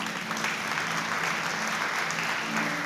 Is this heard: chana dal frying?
no